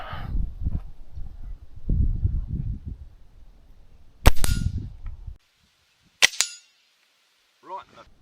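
A Diana 34 .177 air rifle fires at a target with sharp, sudden cracks, one near the middle and another later, each followed by a brief ring. Someone talks quietly before the first shot.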